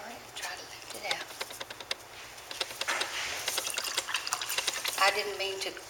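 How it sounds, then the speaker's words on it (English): Water poured onto a silver piece during a silversmithing demonstration, a soft trickling and splashing with small clinks, close and intermittent under a person talking. "So I'm just going to put some water on it. A bit more water."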